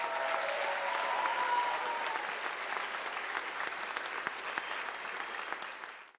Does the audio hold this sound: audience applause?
yes